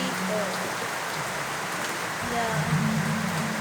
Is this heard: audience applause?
no